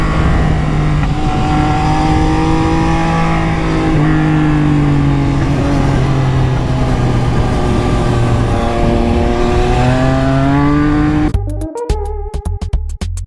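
Motorcycle engine while riding through Naples, a loud close droning note that rises and falls through gear changes, then breaks into rapid sputtering pops near the end.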